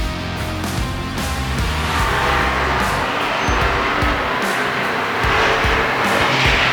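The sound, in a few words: race cars at Tomah Sparta Speedway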